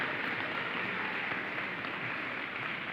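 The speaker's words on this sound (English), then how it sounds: "Give them a big round of applause, folks." Applause from an audience at a Veterans Day program: a steady, dense wash of clapping that holds at an even level for the whole stretch, with no break or fade.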